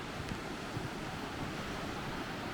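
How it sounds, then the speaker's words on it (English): Waves roll onto a shore under a southwest wind near a strait, a steady, close broadband roar of surf and wind with no pauses and no talk. "And the waves are coming in today because there's a southwest wind blowing."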